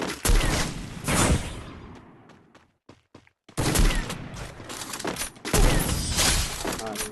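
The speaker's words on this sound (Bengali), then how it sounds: "এত ফায়ার করার ফলে মরে যাবে কেমনে দেখো এত ফায়ার করার" Rapid bursts of gunfire in the video game Free Fire, two dense loud volleys separated by a short lull with scattered single shots, overlapping with someone talking.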